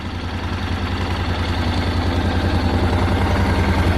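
Honda NC750 DCT motorcycle engine idling close by, a steady low rhythmic throb that holds even and loud without any revving.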